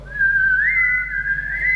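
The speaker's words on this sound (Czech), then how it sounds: "Tak si zapískejte a udělejte v tu kvartu." Whistling of a rising fourth in a workshop, a single clear tone holding the lower note and then sliding up to the higher one and sustaining it, over a faint low hum.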